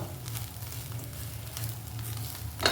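Grated coconut roasting in a pan gives a steady low sizzle with faint stirring scrapes, close and even, ending in a brief sharper clink, no voices.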